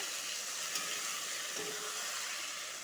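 Pointed gourd frying in a pan with ground spice paste makes a faint, even sizzle that runs without a break. There is no talking.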